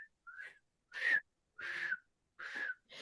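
Human whistling in short repeated phrases, each a clear rising or steady tone separated by brief silences.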